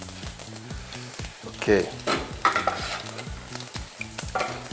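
Fennel seeds and cloves crackle and sizzle in hot oil, with a steady stirring scrape over the frying and a brief spoken word.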